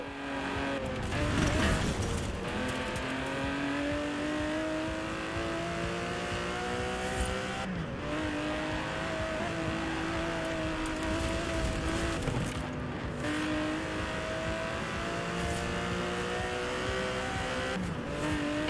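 An Aston Martin DB11's 5.2-litre twin-turbo V12 in Forza Horizon 4, loud and continuous, rising and falling through repeated revs and gear shifts, with brief tire noise early on.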